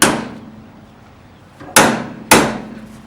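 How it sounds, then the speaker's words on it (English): A hammer lands light taps on a bottom bushing. One strike opens the clip and two more sharp, close, ringing blows follow near the end. "A few light taps."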